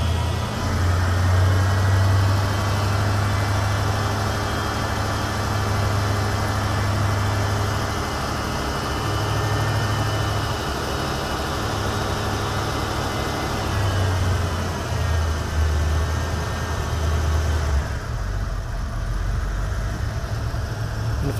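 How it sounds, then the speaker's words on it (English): A Ford car engine runs through its EEC-IV electronic engine self-test, holding a steady loud drone with a rise in speed near the start and a drop back toward idle in the final seconds, with no voices. "You'll hear the car rev up as it's doing this test."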